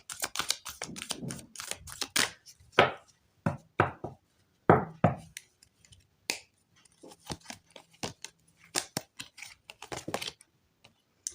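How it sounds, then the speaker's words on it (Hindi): Tarot cards being shuffled, a rapid run of crisp flicks and riffles arriving in irregular bursts with short pauses between them, close and fairly quiet, with no voices. "last shuffle for Scorpios please"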